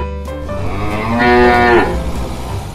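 A cow moos once in a long, loud, drawn-out call that swells in the middle and fades, with no other sounds around it.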